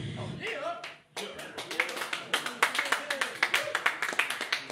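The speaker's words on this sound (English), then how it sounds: "Another round of applause for you" Audience at a live gig at the UFO venue clapping, a rhythmic run of distinct hand claps building in pace and loudness after a voice at the start.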